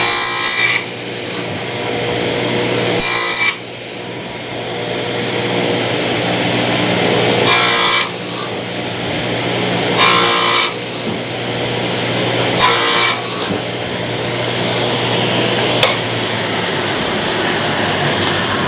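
Thin 1/8-inch wood strips are sliced repeatedly with a power saw. A steady motor hum is broken by about six short, loud, bright bursts of cutting at a regular pace.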